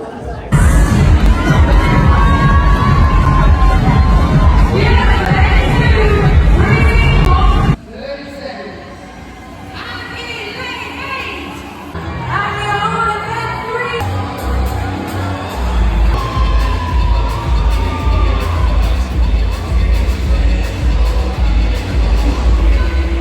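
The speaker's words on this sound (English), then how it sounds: "seems like there's a decent crowd out there" A large crowd cheers and shouts loudly at a fitness competition, a dense roar that drops off sharply partway through, then builds back into steady applause and calls from the stands.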